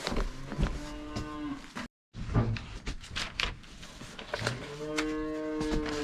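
A cow moos nearby in a couple of drawn-out calls, with shuffling and knocking sounds around it and a brief dropout in the middle.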